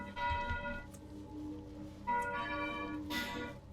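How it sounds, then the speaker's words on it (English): Church bells ring out in the video game Torment: Tides of Numenera, several separate strikes with sustained resonant tails, fairly faint and with no talk over them. "And we have church bells."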